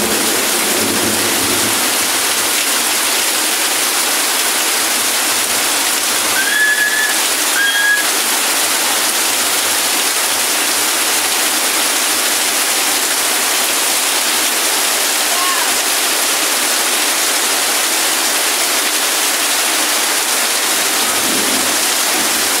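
Flood water rushes steadily through a clogged drain in a residential block. The dense, continuous roar stays close and even throughout, with a faint bird call briefly audible.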